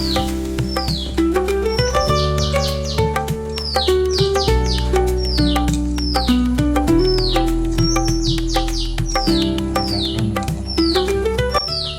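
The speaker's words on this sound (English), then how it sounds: "you can hear the cicadas screeching and a bird chirping in the background." Bright, repeated bird chirps and high, sweeping calls ring out over a steady drone of screeching cicadas and low background hum, continuing throughout.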